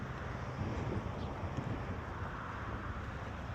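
Wind blows across the microphone at a park, a constant low rumbling buffet that gusts unevenly throughout, with no voices.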